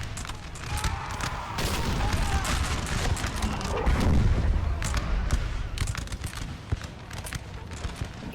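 Cannon artillery fire in the Napoleon Total War video game, a battle with four cannons firing repeated sharp booms and cracks in irregular volleys over a dense rumbling battlefield din.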